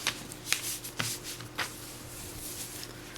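A sheet of regular printing paper being handled for origami gives crisp rustles and a few sharp flicking crackles close up, in short irregular bursts with no talking.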